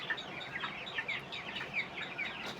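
Chickens on a poultry farm give repeated soft clucks and short chirpy calls, close and overlapping, over a low background murmur.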